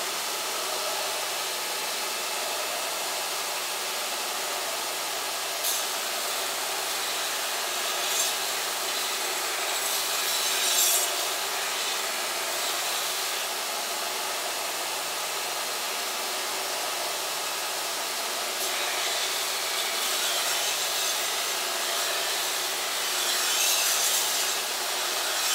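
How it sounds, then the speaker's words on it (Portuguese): A steady, continuous grinding hiss of a belt sander sharpening a knife blade, running without pause at an even level with slight swells. "Agora eu vou dar outra passada ali na lixadeira, só para acabar de chegar o fio aqui no lugar"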